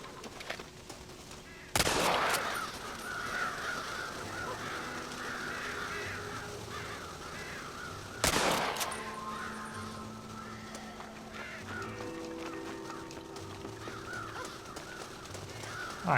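Crows caw repeatedly in the Red Dead Redemption video game, a steady mid-pitched cawing over low ambient noise, broken by two sharp loud bangs resembling gunshots; no talking.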